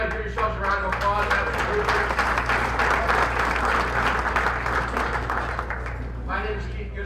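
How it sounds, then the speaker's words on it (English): Banquet guests at the Ohio Harvest Horsemen's Association annual dinner give sustained, moderately loud applause with dense clapping that tapers near the end, and a voice briefly speaks over it. "go ahead and give yourselves a round of applause"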